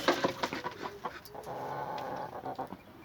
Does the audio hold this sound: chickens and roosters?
yes